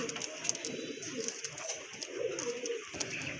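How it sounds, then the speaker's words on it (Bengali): Pigeons cooing in a loft where a pair of fancy pigeons is kept, soft repeated coos close by over a steady background of other birds chirping, no voices. "মাশাল্লাহ এখানে কিন্তু সেই লেভেলের এক জোড়া কবুতর আছে"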